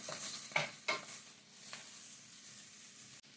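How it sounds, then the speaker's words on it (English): Seasoned Brussels sprouts stirred in a sizzling pan: a steady, close frying hiss broken by a few scraping stirs near the start and a sharp clack at the end, with no talking. "as we got all our seasoning in there, we're gonna give this one more stir"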